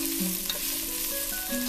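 Garlic frying in a pan for a lentil and tomato soup, a steady close sizzle with brief scraping stirs, no talking.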